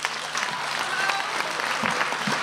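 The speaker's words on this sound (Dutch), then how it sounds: "Dames en heren, mag ik een heel hartelijk applaus voor Ellen Dekwits." Warm audience applause greets a poet at a TiLT literary event in Tilburg, a continuous wash of clapping from a crowd with a faint murmur underneath.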